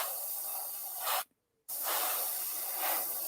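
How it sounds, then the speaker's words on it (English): AK Real Color scale-model paint sprays from an airbrush in a steady, close hiss, cut by one brief pause before the spray resumes at the same level. "Now these AK real color paints, they spray beautifully"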